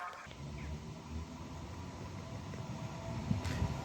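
An EU160 electric locomotive pulls away from a station in Tłuszcz, Poland, a steady low rumble of rolling rail traffic building slightly toward the end, heard from moderate distance with no talking.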